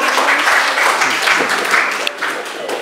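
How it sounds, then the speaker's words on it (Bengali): An audience at a Bengal Education Development Foundation event in Dum Dum gives a round of applause for actress Smita Bhowmik, a dense, close burst of clapping that fades slightly toward the end, with a voice underneath. "স্মিতা ভৌমিকের জন্য একবার করতালি হোক।"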